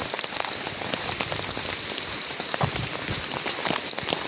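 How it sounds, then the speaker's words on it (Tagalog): Heavy rain pours steadily at night on a flooding road, a dense hiss of drops drumming on surfaces close by, with no voices. "Grabe yung bagsak ng ulan"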